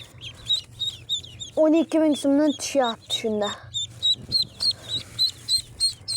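Four ducklings bought at a market call in repeated, high, rapid peeps and squeaky bursts close by, while someone talks over them.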